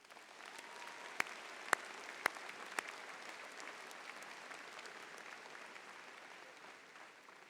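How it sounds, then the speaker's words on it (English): An undergraduate commencement audience applauds in a large hall, soft and distant. Steady crowd clapping carries a few sharper individual claps early on. "Please give our staff a round of applause."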